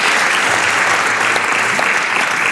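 Audience in a café-style discussion venue claps steadily throughout, a dense, even round of applause filling the room with no voices on top.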